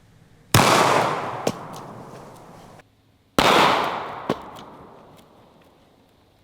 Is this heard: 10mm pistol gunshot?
yes